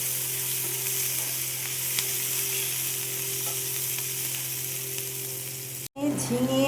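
Long thin slices of onion fry in hot oil with nigella seeds, giving a steady, close sizzle that runs unbroken for most of the stretch before a brief cut and a louder burst of crackling.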